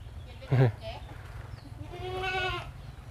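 On a small goat farm, a goat gives a clear wavering bleat near the end, following a short sharp animal call at the start, with quiet background noise and people talking nearby.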